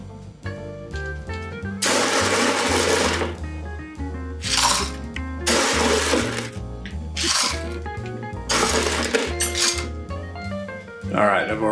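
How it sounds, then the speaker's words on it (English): Ice cubes clatter into a metal mule mug for a cocktail in several bursts of loud, close rattling and clinking, separated by brief pauses, over a low background hum. "let's get our ice in here"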